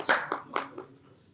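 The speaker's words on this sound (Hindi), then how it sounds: "एक बार ताली बजा करके अध्यक्ष जी का स्वागत और सम्मान करें।" Brief, sparse hand claps from an audience welcoming the chairman at a devotional gathering: a handful of separate claps, close and fairly soft, fading quickly into quiet.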